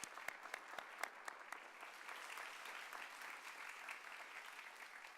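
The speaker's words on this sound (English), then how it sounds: "I ask you to give them a big round of applause." Audience at a British school's Year 9 promotion ceremony applauding the teachers, sustained hall-filling clapping with crisp individual claps standing out early, steady and fairly close throughout.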